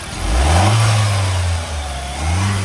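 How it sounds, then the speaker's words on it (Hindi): A 2022 Mahindra Scorpio-N engine runs with the bonnet open, rising in a loud rev, easing back toward idle, then revving again, close and clear with no voices. "This is the engine sound"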